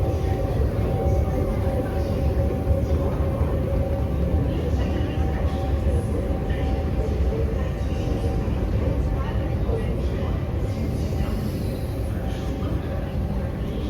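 Inside a Singapore MRT metro station near Punggol Coast, a continuous loud low rumble and hum of trains and station machinery fills the space steadily, with faint voices mixed in underneath.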